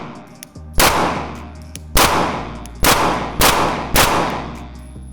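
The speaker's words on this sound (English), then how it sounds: "And if I'm shooting this 19x," Glock 19x pistol fired in five loud, close gunshots at roughly one-second intervals, each a sharp crack with a short ringing tail.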